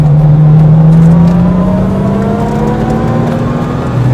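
Lamborghini Miura engine revving hard, its exhaust and intake howling with a rising tone and audible gear whine, loud and steady throughout with no talking.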